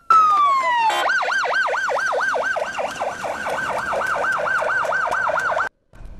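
An ambulance siren wails loud and close at a rescue scene where two sisters were pulled from collapsed rubble. It opens with a falling sweep, then settles into a steady rapid rise-and-fall that cuts off abruptly near the end.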